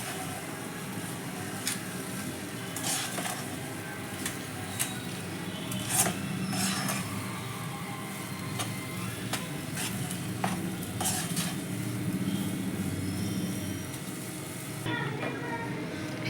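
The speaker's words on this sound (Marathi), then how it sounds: "याच्यामध्ये मी वेलची पावडर घालून घेते आणि आपण एक 2 मिनिटं असंच परतून घेऊया." Semolina sheera with cardamom powder is sautéed in a pan, with repeated spoon scrapes and clinks over a soft steady sizzle, close and moderately loud.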